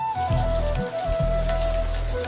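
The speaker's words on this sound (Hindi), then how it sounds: "आपको दिखाता हूँ कितनी बारिश हो रही है।" Heavy rain pours down steadily and loudly, close by, with a constant broadband hiss throughout and no talk over it.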